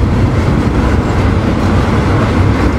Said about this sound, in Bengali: জাস্ট রেল ট্র্যাকের সাউন্ড শুনুন।